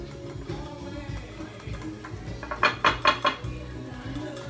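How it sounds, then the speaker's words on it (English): Metal whisk scraping and clinking rapidly against a bowl of pancake batter, building into a burst of quick rhythmic taps near the end, with quiet room noise. "I'm just gonna whisk it because that's what I do."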